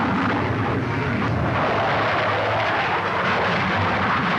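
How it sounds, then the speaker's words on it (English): The jet engine of a Lockheed F-104 Starfighter fighter produces a loud, steady, dense roar that barely changes in level throughout, with no voices over it. "This is the F-104, powered by a new and more powerful jet engine."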